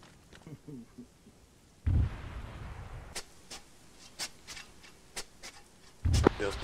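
Gunfire in the military shooter ArmA 3 cracks out as a few heavy booms followed by sharp scattered shots at mid distance, with someone talking through part of it.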